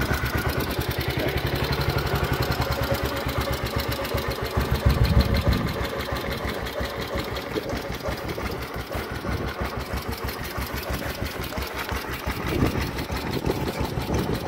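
A 1947 BSA C10 250cc motorcycle engine idles steadily with a rapid, even beat and a rattling top end, briefly revving a little louder partway through, heard close and alone.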